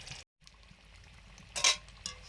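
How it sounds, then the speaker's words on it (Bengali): Cauliflower-and-pea singaras frying gently in oil on low heat, a soft, quiet bubbling sizzle with a brief gap near the start and a couple of sharper clinks or stirring scrapes later on, no one talking. "সিঙ্গারাগুলো অল্প জ্বালানিতে ভাজা হচ্ছে"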